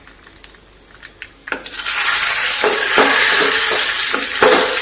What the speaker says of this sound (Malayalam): അണ്ടിപ്പരിപ്പും മുന്തിരിയും ഒന്ന് ഇട്ട് കൊടുത്തിട്ട് നന്നായിട്ടൊന്ന് ഇളക്കി കൊടുക്കാം.